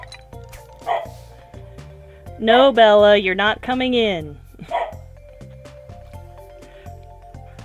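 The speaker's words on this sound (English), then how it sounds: "If she barks while I'm recording" Bella, a pet dog, lets out a burst of loud, close barks and yips in the middle. Someone speaks briefly before and after over quiet game music.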